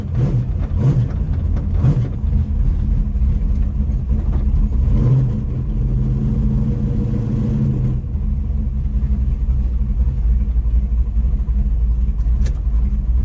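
A street car driving at Drag Week, its engine rumbling loudly and steadily close by, with brief revs early on before settling into a continuous drone.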